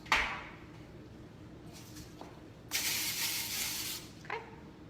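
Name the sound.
nonstick cooking spray being sprayed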